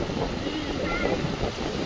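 Wind buffets the microphone in a steady low rumble, with a soft rushing noise throughout.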